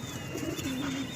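Pigeons at a pigeon club give a short, soft, close-up coo over a low background hum.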